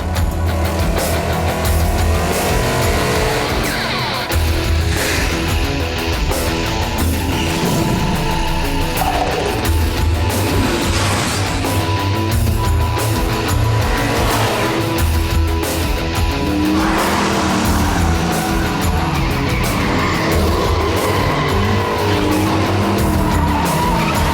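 Cars race through a movie chase scene, engines roaring loudly and continuously with repeated tire squeals and skids rising and falling throughout, with no speech.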